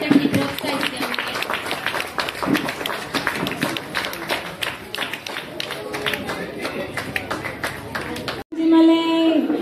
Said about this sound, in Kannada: ಚಪ್ಪಾಳೆ ತಟ್ಟಿ ಪ್ರೋತ್ಸಾಹಿಸಿ ಅವನಿಗೆ